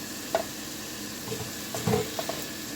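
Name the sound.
stirring tomato sauce into cod stew in a sizzling pan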